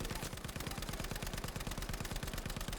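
A Lewis gun light machine gun fires in the video game Battlefield V, a long sustained burst of rapid, evenly spaced shots from close by, without pause.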